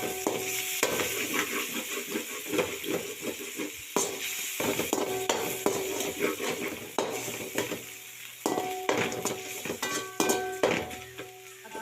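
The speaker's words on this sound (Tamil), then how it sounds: "அதை இந்த நேரத்தில் சேர்த்து நல்லா வதக்கி விட போகிறோம்." Chopped tomatoes sautéing with ginger garlic paste in a pan, with a continuous close sizzle broken by frequent clattering spatula scrapes and taps against the pan, no voices.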